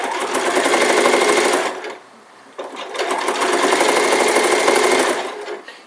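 A sewing machine stitches an elf hat with a loud, steady mechanical whir that pauses briefly midway and then runs on.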